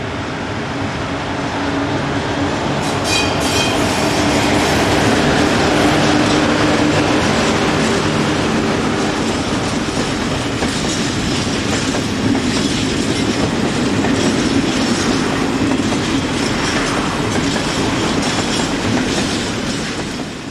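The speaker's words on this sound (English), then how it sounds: "the train engine has been attached to the wagons and departs east" A freight train pulls away east from an Austrian yard, its locomotive hauling a line of wagons with a steady loud rumble, rhythmic clickety-clack from the wheels and brief metallic squeals near the start.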